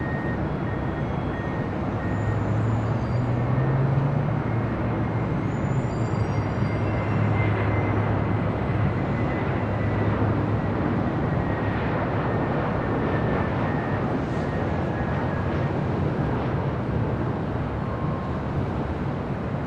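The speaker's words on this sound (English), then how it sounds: "Delta A321 up next for arrival here on the north side." A Delta Airlines Airbus A321 arrives at LAX, heard as a steady, broad roar of jet engines with faint whining tones that holds constant throughout without any break.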